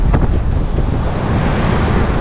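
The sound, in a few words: strong wind at the beach during surf fishing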